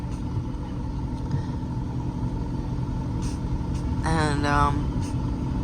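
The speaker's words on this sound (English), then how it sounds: "to have so many people and cars and bicycles and pedestrians and motorcycles and rickshaws and buses" Busy Mumbai street with cars, motorcycles, rickshaws and buses: a dense, constant traffic rumble with a brief tonal horn or brake squeal rising near the end, and a voice speaking over it.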